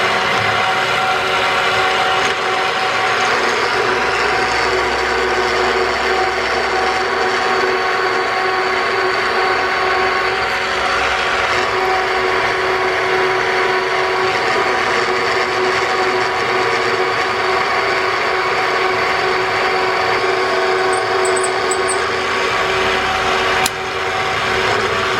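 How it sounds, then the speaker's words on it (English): A piloted core drill bores out a valve guide bore in a centered 454 Chevy big-block cylinder head, giving a steady, loud machining whine with dense broadband grinding that runs unbroken for the whole stretch. "we have a drill here called a core drill, and you can see it's piloted"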